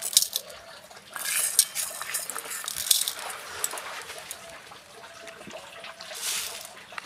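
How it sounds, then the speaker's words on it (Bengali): Red lentils are rubbed and washed by hand in a bowl of water, giving quiet, close, irregular sloshing and gritty swishing strokes with no talk. "এখন জল দিয়ে ভালো করে একটু চটকে চটকে ধুয়ে নিচ্ছি"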